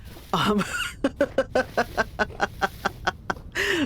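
Chickens cluck in a video game, a rapid series of short, evenly spaced clucks framed by louder, drawn-out squawks at the start and end, close and clear with no talking.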